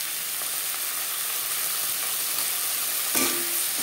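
Crushed garlic with ginger paste and green chili paste sizzles steadily in hot oil while being stirred, a dense even hiss with a brief scrape of the spoon near the end.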